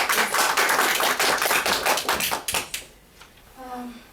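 An audience at a Toastbusters club meeting applauds in a dense, steady burst of many hands. The clapping thins out after a couple of seconds and fades, and a voice then speaks.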